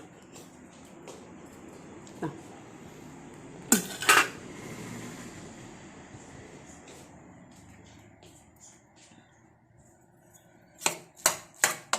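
Dishes and metal pots clatter in sharp bursts in a home kitchen, a couple of clanks early on and a quick run of knocks at the end, in a quiet room.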